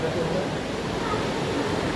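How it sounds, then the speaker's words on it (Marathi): Dangerous, fast-flowing river water rushes in a continuous broadband roar, loud and steady, with people talking faintly beneath it. "पाणी खतरनाक आहे वाहता पाणी आहे"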